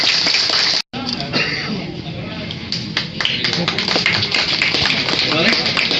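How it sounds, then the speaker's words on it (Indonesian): A crowd of residents claps at a community outreach event in Mangga 2 Selatan, Jakarta, a dense burst of hand claps with loose taps, close and loud, with voices talking over it. "Tepuk tangannya dong."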